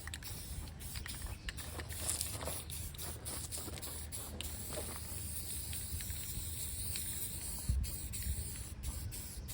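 Rust-Oleum semi-gloss black spray paint hissing steadily from an aerosol can, a continuous close hiss with faint brief breaks and small clicks, no talking.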